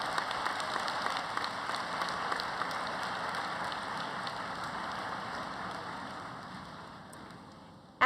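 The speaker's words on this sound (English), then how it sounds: "giving them a huge round of applause" An audience at a student academic excellence awards ceremony applauds for a sustained stretch, a steady, rain-like patter of many hands that gradually tapers off before a sharp knock at the very end.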